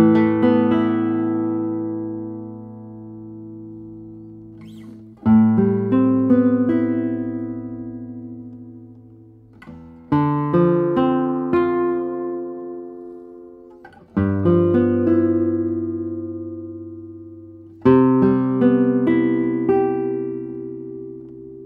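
A handmade Spanish classical guitar plays slow chords and arpeggios, five phrases each starting with a strong pluck and ringing out, bright and sweet in tone, with no voices.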